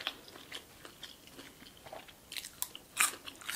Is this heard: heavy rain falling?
no